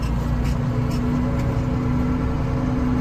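A Case IH 2594 tractor engine runs at a steady, loud, low drone with a constant hum through the gear shifts and no big revving swells, heard close up.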